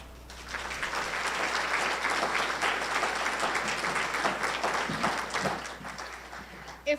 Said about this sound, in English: If we could please give another round of applause to the clients